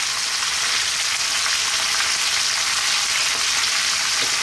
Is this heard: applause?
no